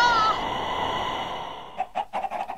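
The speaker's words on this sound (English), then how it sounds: "More chickens!" Chickens cluck in a few short, choppy bursts near the end of the moment, following a sustained higher tone at the start.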